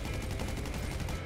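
Rapid automatic gunfire in GTA V, a dense burst of rattling shots running the full length of the short moment, loud and unbroken.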